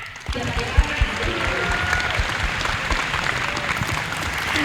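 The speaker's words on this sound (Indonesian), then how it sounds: "Tepuk tangannya mana?" A school audience applauds a student introduction at a vocational school election forum, a dense sustained clatter of many hands with a few sharper claps near the start and voices mixed in underneath.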